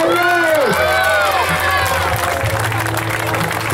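An audience at a youth mini football World Cup award ceremony applauds the goalkeeper, steady close clapping with cheering under an announcer's amplified voice.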